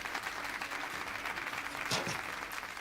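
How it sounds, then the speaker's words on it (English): A burst of applause plays as a stream donation alert during a World of Warships broadcast, a steady crowd-clapping wash running the whole time at moderate level with no talk over it. "Uh-oh, I'm hearing applause."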